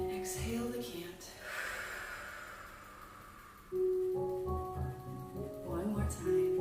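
A long, slow, deep breath is exhaled during guided breathing meditation, a soft airy rush up close, followed by a person speaking with a tonal hum behind the voice.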